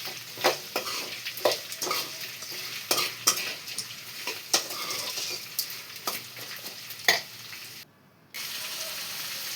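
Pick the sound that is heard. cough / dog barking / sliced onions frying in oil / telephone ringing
sliced onions frying in oil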